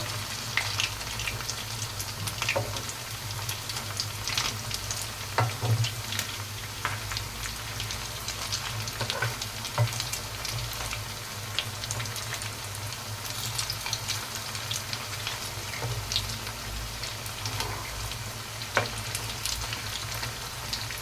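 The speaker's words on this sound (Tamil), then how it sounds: "இந்த பக்கம் நல்லா ஆயிலில் ஃப்ரை ஆகி வரட்டும்" Semolina (rava) evening snacks deep fry in a pan of oil, giving a continuous, even crackling hiss at moderate distance for the whole stretch, with no talking.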